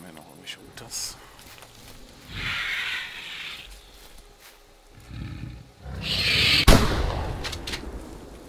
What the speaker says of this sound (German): Geschossen.